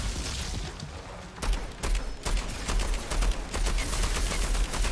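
Bursts of gunfire in the video game Outriders, with rapid shots and a few heavier booms in clusters over a steady, busy background, and no voices.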